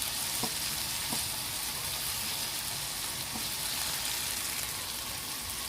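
Chopped tomatoes sizzle steadily in a hot pan for a bitter gourd vegetable dish, a constant, even frying hiss with a few faint clinks of a utensil.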